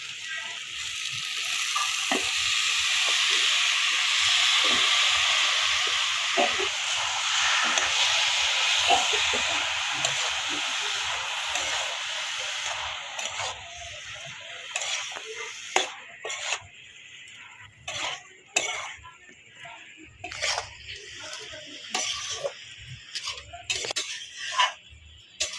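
Mushrooms go into fried masala in a hot pan, loud sizzling and hissing steam at first, then settling into intermittent stirring scrapes and clinks of a utensil as the frying quiets.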